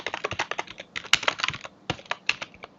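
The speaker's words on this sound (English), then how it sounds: "try and do a bit less typing." Rapid bursts of keystrokes on a computer keyboard, close and crisp, clattering in quick irregular runs with short pauses between them and no voices.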